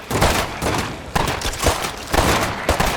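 Gunfire in the State of Decay 2 video game: loud, close bursts of rapid shots repeating every half second or so, heavy and punchy, with no talking.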